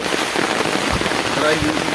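Floodwater rushes and pours steeply in the Kakkidikkal area, a dense, continuous broadband roar like a waterfall, heavy and close throughout, with faint voices mixed in.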